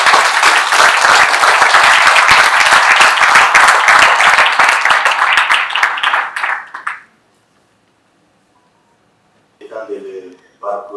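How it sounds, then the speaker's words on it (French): An audience bursts into loud, sustained applause for several seconds, then it fades into silence before a voice speaks. "Sous vos applaudissements, s'il vous plaît."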